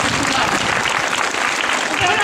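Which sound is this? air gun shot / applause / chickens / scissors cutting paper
applause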